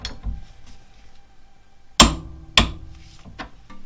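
A torque wrench tightens a nut on a rear suspension kit for a turbocharged Mazda MX5 to 90 newton meters, giving two sharp metallic clicks a fraction of a second apart after quieter faint handling noises.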